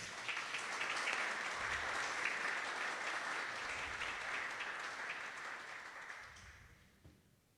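An audience gathered for a poetry reading applauds steadily for several seconds, a soft, even wash of many hands clapping that gradually thins and fades out near the end.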